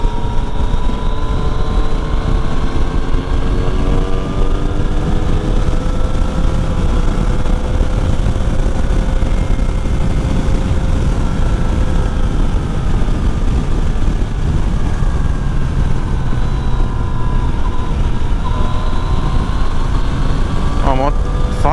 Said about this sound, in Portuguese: A moto falha, tá vendo?